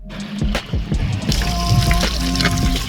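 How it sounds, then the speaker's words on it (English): Water trickles and splashes into a cheap salvage boat through a leak, with close, uneven dribbling and small sloshing bursts, and no talking. "the water is actually going inside the boat"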